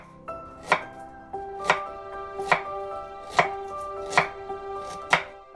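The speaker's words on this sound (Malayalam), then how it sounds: "ഇതും ഞാനിങ്ങനെ നീളത്തിൽ അരിഞ്ഞിട്ടുണ്ട്" Knife chopping ginger and garlic lengthwise into strips on a board, about seven crisp, evenly spaced strikes close up with no talking, for a watermelon rind pickle.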